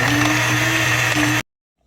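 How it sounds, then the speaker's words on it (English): Kitchen blender grinding spices, garlic and ginger, a loud close whirring drone that runs steadily, then cuts off abruptly into silence. "This blender is superb. It blends everything."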